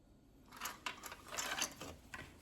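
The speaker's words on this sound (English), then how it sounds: "we're going to run a stitch right here to secure that binding into place" A sewing machine runs a quiet stitch along the binding of a fabric potholder, a soft, faint mechanical whir in short bursts lasting about two seconds.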